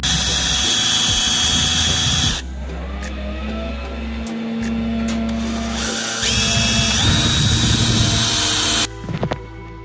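A power drill whines loudly and steadily for several seconds, pitch shifting as it bites into a BMW 318is metal steering shaft, then cuts off with a few short bursts near the end.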